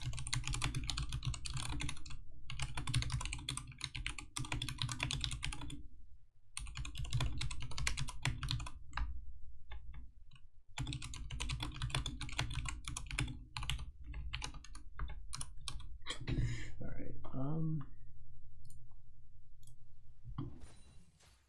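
Rapid typing on a computer keyboard in steady bursts of clicking keystrokes, with a couple of short pauses in between.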